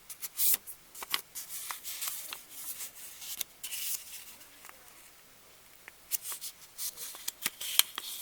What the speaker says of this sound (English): I'm just going to fold it in quarters.